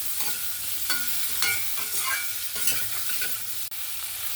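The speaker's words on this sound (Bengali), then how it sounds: "এর মধ্যে একটু হলুদ আর লবণ, আবারও মিক্স করে নেব ভালো করে" Vegetables with turmeric and salt are stirred in a sizzling frying pan, with continuous close frying hiss and repeated scrapes and taps of a spoon against the pan.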